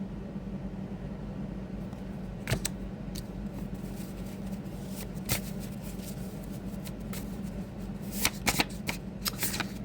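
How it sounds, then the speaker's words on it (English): Thin playing cards are shuffled, giving faint riffling rustles with several sharper snaps and bursts over a quiet room hum. "These cards are too thin. Like, I can't really shuffle them."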